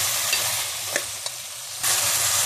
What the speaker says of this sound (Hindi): तो गोभी और गाजर ऐड कर दिए, इसको अच्छी तरह से मिक्स करेंगे, इसको भी 1-2 मिनट पकाएंगे।